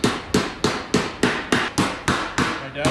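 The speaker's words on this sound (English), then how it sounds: "You just smack them back into place." A hammer strikes bent car engine valves to straighten them, about nine sharp metallic blows in a steady, quick rhythm, loud and close with nothing else heard.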